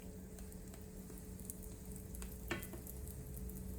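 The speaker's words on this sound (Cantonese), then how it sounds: "放啲油，稍微煎一下一邊，再反返過嚟。" A scallion roll pan-frying in a little oil, with one side browning before the flip: a soft, steady sizzle close by and a few faint scrapes or pops.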